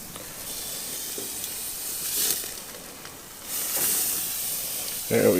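A steak sizzles on a Monument Grills Mesa 405 gas grill, producing a steady hissing crackle that swells in a couple of louder bursts, with a brief knock at the end.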